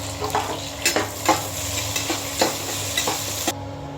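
Onions and green chillies frying in hot oil in a pan for chicken biryani, a steady close sizzle broken by repeated scraping stirs at a loose, regular rhythm, with no voices.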